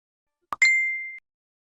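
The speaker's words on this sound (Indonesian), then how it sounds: "Dan ngebiarin notif HP gue bunyi." A smartphone notification gives a short tap followed by one clear, ringing chime that fades over about half a second, heard alone in silence.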